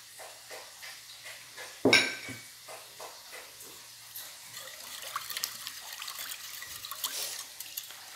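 Fruit bread batter is stirred in a bowl: rhythmic scraping strokes repeat steadily, broken early by one sharp clank of utensil against the bowl.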